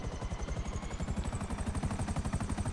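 A Buzzard helicopter in GTA Online flies with a fast, even rotor chop and a thin whine that rises slowly in pitch, steady and fairly close, without talk.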